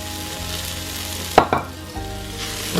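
Onions and carrots sauté in an Instant Pot, a constant loud sizzle with a sudden clatter and scrape of stirring partway through.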